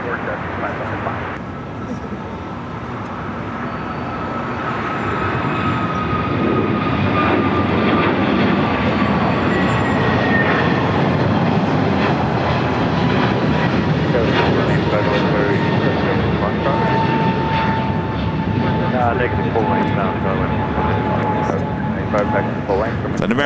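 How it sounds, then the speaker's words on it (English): An American Airlines Boeing 777 begins to taxi at Los Angeles airport, a loud continuous jet engine roar that builds over the first seconds and holds steady, with a slowly drifting whine above. "An American 777 starting taxi."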